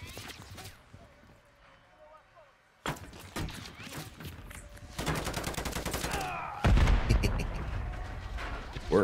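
Gunfire from the video game Call of Duty Modern Warfare 3, with scattered single shots building into rapid automatic bursts that grow louder and denser toward the end.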